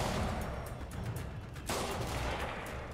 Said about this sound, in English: Alright, what we got? Gunshots?